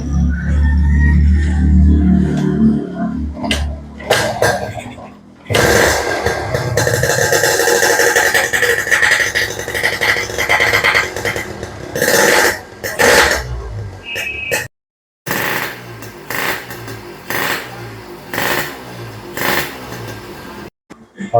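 A Yamaha RX motorcycle is started and left running, its small engine making a choppy, rattling idle close by, broken by a few short pauses and bursts.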